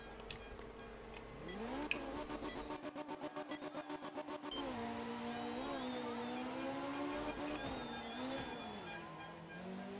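Group 4 rally car engine in the video game art of rally, revving up through rising gears with a brief stuttering burst, then a sustained, moderately loud drone shifting in pitch, with a voice faintly underneath.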